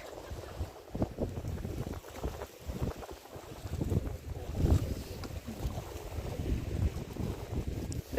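Seaside ambience on rocks by the shore at sunset, with steady gusting wind rumbling across the microphone and a constant wash of surf and water.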